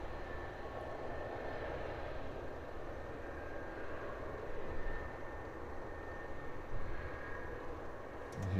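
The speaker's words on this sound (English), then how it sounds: "we have the EasyJet that I mentioned lined up already for a quick departure" An EasyJet airliner departing London Luton Airport roars steadily at a distance, a broad, even jet rumble that swells slightly toward the end with no voices.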